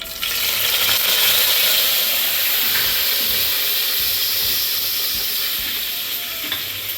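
Cumin seeds and curry leaves fry in hot oil for dahi kadhi, giving a loud, steady, close sizzle that hisses continuously, with no talking.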